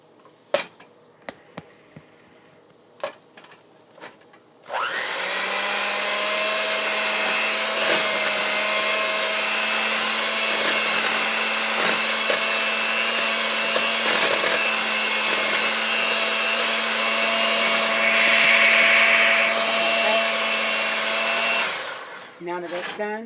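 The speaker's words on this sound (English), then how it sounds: "we're going to cream our butter and our sugar together" An electric mixer creams butter and sugar for blueberry lemon scones, starting after a few quiet knocks and running as a loud, steady whir for about seventeen seconds before cutting off.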